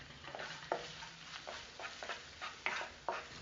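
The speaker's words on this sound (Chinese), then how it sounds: "往锅内加1小勺辣椒粉和半勺花椒粉翻炒" Chili powder and Sichuan pepper powder stir-fried in a wok, with a faint sizzle under a series of soft scraping strokes of the spatula at an uneven rhythm, close by and with no talking.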